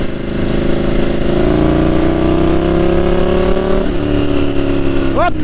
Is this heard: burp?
no